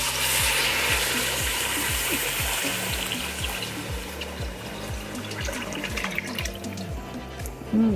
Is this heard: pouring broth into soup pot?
yes